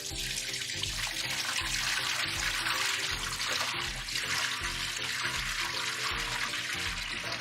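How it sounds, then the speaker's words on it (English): Water pours steadily into a bucket with a rock inside, a continuous bright splashing rush that holds at an even, close level from start to finish. "We're going to add our water."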